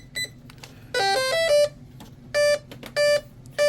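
An electronic speed controller for a Proboat UL-19 hydroplane with a Spektrum 160A unit emits a series of sharp electronic beeps and tones during throttle calibration, some short, some held, close and clear over faint background hum.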